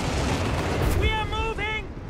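Gunfire and artillery from the real-time strategy game Company of Heroes 3, a dense rumbling barrage with sharp reports, while a voice shouts a command partway through.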